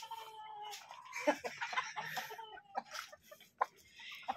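Gamefowl chickens and pullets on a game farm cluck and squawk at close range, with overlapping calls and soft scuffling in between.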